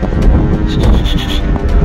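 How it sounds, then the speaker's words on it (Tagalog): Strong wind roars steadily into the microphone, a constant low buffeting rumble with gusts throughout. "sobrang lakas ng hangin"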